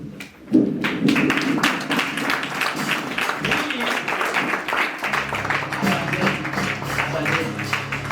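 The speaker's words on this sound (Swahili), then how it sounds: "mnaweza simama tuwapigie makofi tafadhali" Audience at a church dedication of children at a prayer mountain applauding, with steady crowd clapping and thumps that start abruptly and carry on throughout, fairly loud and close, with speech mixed in.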